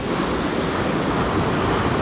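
Rough, stormy sea at Point Pedro during a cyclone: a steady, loud roar of crashing surf mixed with strong wind buffeting the microphone, continuous throughout.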